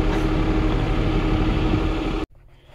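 A tractor engine idles steadily with a close, dense low rumble for about two seconds, then cuts off abruptly, leaving quiet background.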